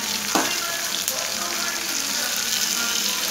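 Tomatoes sautéing in hot oil for chutney give a dense, close, continuous sizzle, with one brief scrape and faint clinks.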